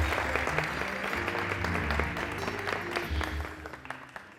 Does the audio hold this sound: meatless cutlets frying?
no